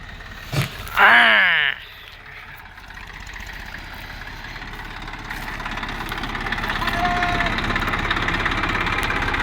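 A large Massey tractor engine idles with a steady low chugging that slowly grows louder while loading sand into a mini tractor's trolley, after a brief rising whistle-like cry near the start.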